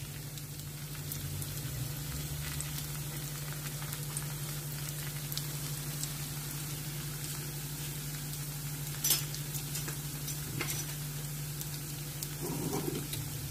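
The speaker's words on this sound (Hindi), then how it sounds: "तेल हमारा गरम है, इसमें हम कुछ रोल्स डालते हैं इस तरह और करते हैं इनको फ्राई।" Chicken spaghetti rolls fry in hot oil, giving off a steady, low, quiet sizzle with light crackles and a few sharper pops.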